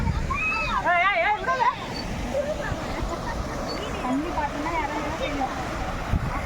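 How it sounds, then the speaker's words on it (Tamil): Water gushes through two pipes laid under a cement road near Meyyur, Koodapakkam, filling the scene with a steady, loud rushing wash while people talk over it. "ஃபுல்லாக தண்ணி போகுது"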